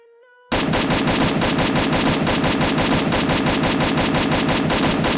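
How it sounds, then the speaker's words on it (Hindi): An M4A1 rifle in a video game fires continuously after a brief quiet start: a loud, rapid, evenly spaced stream of shots that holds for about five seconds. "अब उसके बाद 5 सेकंड तक M4A1 को भी कंटिन्यूस फायर करेंगे"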